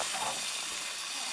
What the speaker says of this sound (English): that's a good sizzle.